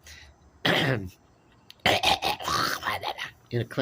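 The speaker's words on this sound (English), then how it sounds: "clear my throat." A man clears his throat with a short rough burst, pauses, then clears it again in a longer gravelly sequence, close and fairly loud.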